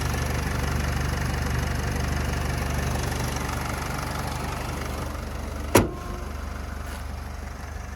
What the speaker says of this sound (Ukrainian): Я думаю, тут чути, як мотор працює.